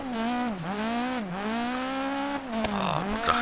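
A rally car engine in the video game DiRT Rally 2.0, on a gravel stage of Rally Greece, revs hard and drops between gear shifts, a strong whining tone rising and dipping repeatedly, close and loud with no talk.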